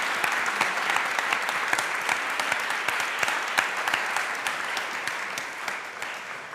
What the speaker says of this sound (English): Actually, I think our debaters deserve another round of applause.